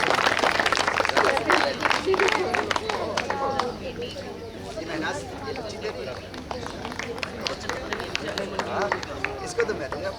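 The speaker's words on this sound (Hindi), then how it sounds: "इसके लिए तो एक बार ताली बजा दो" Audience at a yoga workshop in a physical education department hall clapping for a young girl, a dense patter of many hands mixed with crowd chatter and a voice speaking over it.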